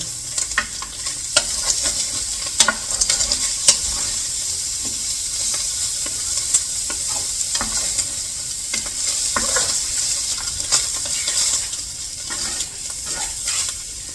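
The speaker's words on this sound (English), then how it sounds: "my sausage is starting to brown, so I'm going to flip them" Sausages brown in a hot pan with a steady, bright sizzle and hiss, punctuated by several clicks and scrapes as they are turned over, close and moderately loud, no talking.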